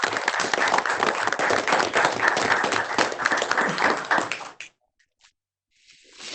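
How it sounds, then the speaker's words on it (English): A crowd claps at a county board meeting, a dense round of applause lasting about four seconds, then stopping abruptly into near silence with a couple of faint stray taps. "A round of applause, please"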